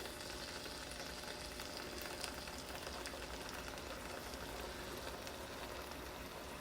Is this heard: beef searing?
yes